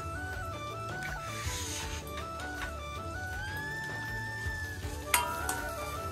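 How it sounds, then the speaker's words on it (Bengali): Butter frying in a pan while making kulhad pizza, a steady low sizzle with faint stirring that runs throughout, a brief clatter near the end and background tones over it. "এটা অল্প ভাজি করতে লাগবে, ভাজি তারপরে দিতে হবে"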